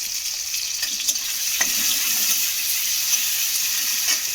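Garlic, green chillies and onion frying in a pan for a tomato and curry leaf chutney, a continuous close sizzle with a few soft crackles and stirring scrapes, no talk.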